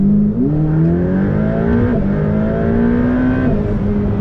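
A 2021 Ferrari F8 Tributo supercar accelerating hard from inside the cabin, its engine note loud and rising in pitch, with quick jumps as it shifts gears.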